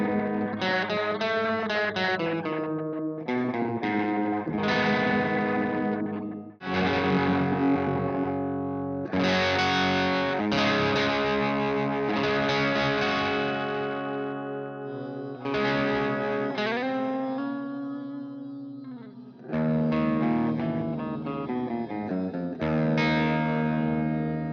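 Electric guitar run through an Empress Reverb pedal while reverb modes are switched, with sustained distorted chords and a modulated, chorus-like shimmer and lingering tails, broken by short gaps as each setting changes.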